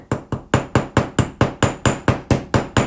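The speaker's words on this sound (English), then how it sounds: "It's a 4-ounce hammer. Smaller of the two that we currently carry. And just flatten it out." A small 4-ounce hammer taps a metal rivet flat on a jewelry piece, about a dozen sharp, close metallic strikes in an even, quick rhythm, each ringing briefly before the next.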